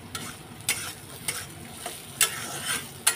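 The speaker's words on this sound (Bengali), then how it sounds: "এই দেখো কাঁঠালের বীজগুলো আমার ভাজা হয়ে গেছে" A soft, steady sizzle of jackfruit seeds frying in a pan, broken by several sharp scrapes and clicks of a spatula stirring.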